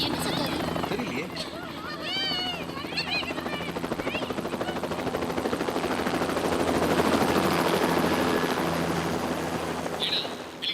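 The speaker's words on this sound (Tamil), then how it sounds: "ஹெலிகாப்டர் வந்தாச்சா?" A helicopter's rotor thumps steadily and grows louder, with people talking and shouting over it.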